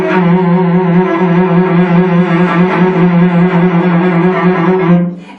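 A violin sustains rich tones with wide, slow vibrato and broad sliding pitch changes, played steadily and up close before cutting off.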